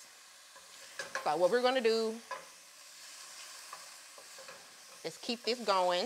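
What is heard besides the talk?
stirring sizzling food in a pan for taco spaghetti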